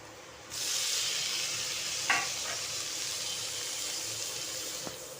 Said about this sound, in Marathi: आणि आता हे टोमॅटो टाकते मी त्याच्यामध्ये